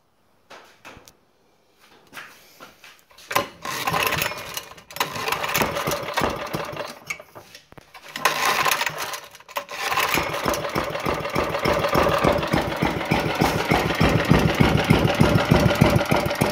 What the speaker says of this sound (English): Cold start, so I'm going to see what this thing's like on cold start.